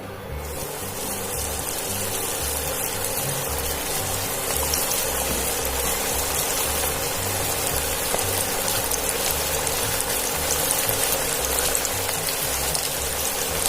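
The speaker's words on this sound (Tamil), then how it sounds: "இப்போ எண்ணெய் நல்லா சூடாயிடுச்சு. காடையை எடுத்து போட்டுருவோம் எண்ணெயில்." Whole quail drop into hot oil and fry with a continuous loud, dense sizzle and bubbling that holds steady throughout, close up and without speech.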